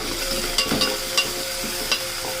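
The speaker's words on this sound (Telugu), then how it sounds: "ఇప్పుడైతే ఫ్రెష్గా దంచుకున్న అల్లం వెల్లుల్లి పేస్ట్ వేసుకొని పచ్చివాసన పోయే వరకు ఫ్రై చేసుకోవాలి." Freshly pounded ginger garlic paste fries with onions and green chillies in a pan: a constant close sizzle with several short scraping stirs at irregular moments.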